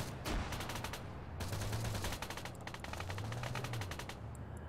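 Rapid bursts of gunfire and grenade blasts in the military video game ARMA 3, loud and dense, with volleys of shots and sharp explosions repeating across the whole stretch, no talking.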